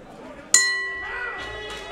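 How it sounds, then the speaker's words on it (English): A boxing ring bell ends a round in the video game Boxing Insider 2: one sharp metallic clang rings out and decays slowly, heard alone with crowd ambience. "There's the bell."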